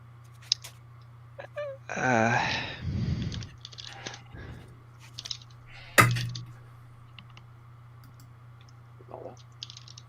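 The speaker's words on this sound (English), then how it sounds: "I hear typing." Scattered keyboard clicks, sparse and irregular, over a steady low hum, with a brief burst of voice-like noise and a sharp knock partway through.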